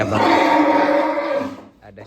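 A drawn-out low cow moo lasting over a second, fairly loud and close, fading into quiet with faint background noise.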